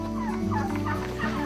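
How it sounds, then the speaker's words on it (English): Turkeys on a farm gobble in quick warbling bursts, several birds calling close by and fairly loud over a steady low background hum. "Come on, because we got to run away from the turkeys."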